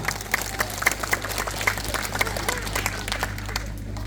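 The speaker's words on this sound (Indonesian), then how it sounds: "Tepuk tangan buat semua, nggak apa-apa." Applause at an Isra Mi'raj religious gathering in a mosque, a crowd clapping steadily with dense, even patter that gradually thins and fades toward the end.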